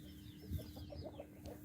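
An Asil rooster gives a few soft, faint clucks in quick succession, quiet and close.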